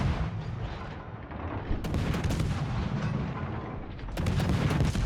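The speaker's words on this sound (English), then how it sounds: "And actually, I'm gonna shoot." Guns on the Gdansk, a tier 10 Polish destroyer in World of Warships, fire in heavy booming salvos over dense rumbling battle noise, with a louder volley near the end and no voices.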